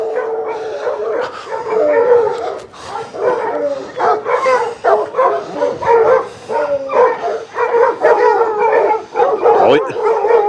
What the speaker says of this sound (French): sûrement des chiens de chasse